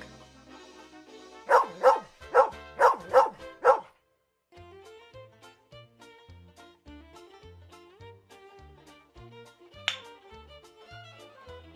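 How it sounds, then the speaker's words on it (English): A domestic dog barks five times in a quick, evenly spaced burst, loud and close, followed by a cheerful children's tune with a bouncy rhythm. "Dog."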